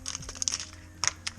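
Scissors with gummed-up blades cutting, giving a few short, sharp snipping crackles in quick bursts, close and faint, with quiet pauses between.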